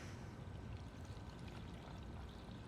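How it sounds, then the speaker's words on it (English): Water poured into a bowl of dill pickle panzanella salad, a steady, even splashing rush that runs unbroken and fairly close throughout. "And then we'll add our water."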